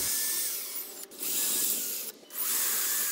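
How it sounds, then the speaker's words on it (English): A power drill bores pocket holes into a clamped wooden board for a raised garden planter box, two sustained close whirring runs separated by brief pauses. "Then, I pre-drill the pocket holes using a clamp."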